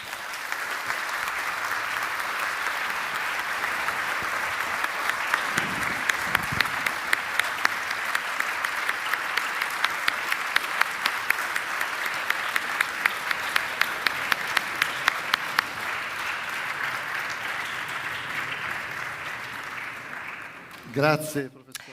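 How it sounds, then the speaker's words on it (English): A long round of applause from a lecture audience fills the hall with dense, steady clapping, dotted with sharper individual claps, fading toward the end before a voice starts speaking. "I think this a long round of applause is the best possible proof of the enthusiasm"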